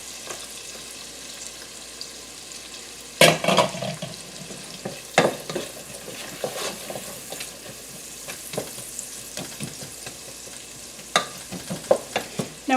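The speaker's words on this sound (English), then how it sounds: "Alright, so we're going to cook the onions." Onions and garlic sizzle softly in a pan under a steady frying hiss, broken by sharp scraping and clacking as a utensil stirs them every second or two.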